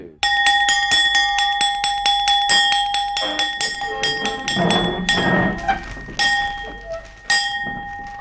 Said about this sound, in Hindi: हमारा हुक्म है, आधी छुट्टी की घंटी बजा दी जाए।